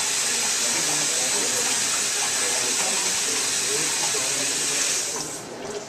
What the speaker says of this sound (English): I want to rinse it really quick because it does have some rice polishings on it